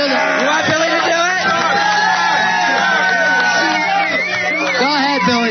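Studio audience cheering and whooping at a live radio freakshow stunt, a loud, dense crowd roar with shouts and yells sustained throughout, voices mixed in.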